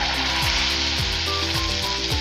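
Potato pakora batter sizzling in hot sunflower oil, a dense continuous frying hiss that is loud and close, with faint bubbling pops throughout and no voices.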